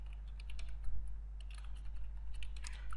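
Close, quiet keyboard typing in quick irregular bursts of key clicks over a low steady hum, with no talking.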